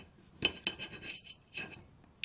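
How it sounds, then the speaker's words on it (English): A knife cuts through kiwi fruit on a hard surface, giving several sharp, close taps and scrapes spaced irregularly across a quiet background. "Next, we're gonna cut the kiwis."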